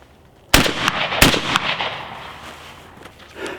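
A shotgun fires a reloaded Fiocchi shell, one loud, sharp blast with a second crack right after and a long rolling echo that fades outdoors, no one speaking.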